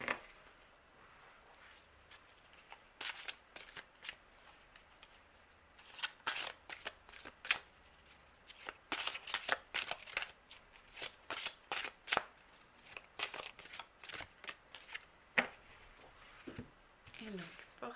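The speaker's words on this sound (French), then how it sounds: "on commence donc par le tirage des cartes nombre" Number cards for a weekly tarot-style reading being shuffled and drawn, a long series of quick crisp riffling and snapping card sounds in uneven bursts, close and fairly quiet in a still room.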